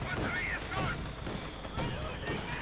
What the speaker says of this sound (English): Mortar rounds going down on them as well.